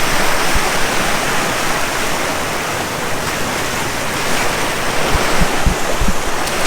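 Ocean surf at Waikiki Beach in Hawaii makes a loud, continuous rushing wash with a few sharper splashes near the end, no voices present.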